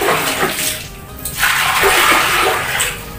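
A steady rush of water pours into a clogged toilet bowl, briefly easing then surging again, close and loud with a hollow splashing quality.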